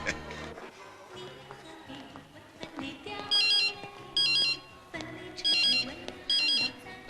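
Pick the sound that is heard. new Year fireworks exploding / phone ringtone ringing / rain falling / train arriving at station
phone ringtone ringing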